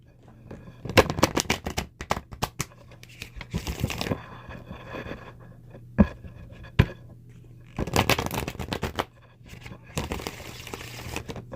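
Tarot cards are shuffled in several bursts of riffling and flapping, close and crisp, separated by quieter pauses and a couple of sharp taps, with a voice speaking softly at times.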